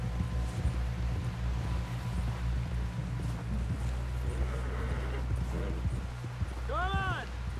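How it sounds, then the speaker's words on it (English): Horse hooves clip-clop at a steady walking rhythm in the Red Dead Redemption 2 video game, close and continuous over low ambient rumble, with a brief whinny-like call near the end. "Someone help John down off this horse"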